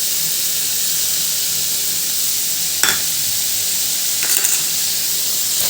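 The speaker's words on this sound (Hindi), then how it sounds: "अच्छे से इसको फ्राई करके बस निकाल लेते हैं" Masala being fried in a pan with salt added, a steady close sizzle and hiss running throughout, broken by two brief sharp clinks of a utensil against the pan.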